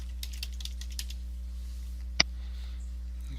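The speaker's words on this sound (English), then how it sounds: "I'm going to type in Aspen Falls." Light, sparse keystrokes on a computer keyboard, a few soft clicks and one sharper tap, faint against a steady low hum.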